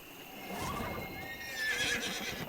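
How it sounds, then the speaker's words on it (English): A horse in the game Dungeons and Dragons Online neighs twice, a rising whinny then a louder shrill whinny near the end, with faint hoof clip-clop beneath. "we're going to get on our horse"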